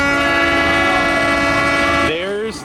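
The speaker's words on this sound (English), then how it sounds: "There's the honk." A theme park train horn blares in one long, loud, sustained chord, then bends and fades as it cuts off near the end.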